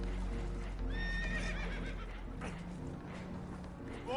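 Spooked horses neigh and whinny in Red Dead Redemption 2 during a boat scene, a few loud, wavering calls with hoof clatter over a steady low rumble of water and wind, with no talk.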